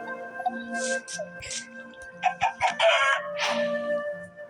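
Minecraft chickens clucking in a short burst of several bright, irregular calls, fairly close and moderately loud over steady background game music.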